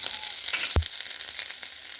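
Grated ginger frying in hot oil with nigella seeds in a pan, a steady close sizzle broken by one sharp clack of utensil against pan.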